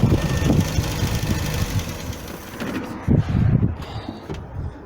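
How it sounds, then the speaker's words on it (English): A Mk3 Ford Cortina with a Kent engine, fitted with a brand new battery, idles with a steady low rumble and some mechanical clatter, close by and without talk. "running, as you can hear. It's a Kent engine."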